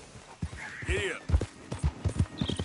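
Horse hooves clip-clop in a rhythmic gait in Red Dead Redemption 2, fairly close, with occasional rising whistle-like tones and a voice speaking over the hoofbeats.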